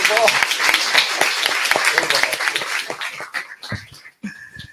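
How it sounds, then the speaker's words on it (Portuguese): An audience at a spoken gathering applauds a guest speaker with loud, dense clapping that holds for about three seconds before breaking up into a few scattered claps and fading out. "vamos aplaudir mais uma vez o Edgar, senão ele não volta."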